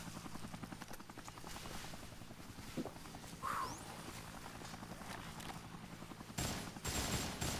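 A helicopter in the video game Dead Rising hovers with a steady rotor throb while bursts of gunfire crackle beneath it, ending in a louder, brighter rush.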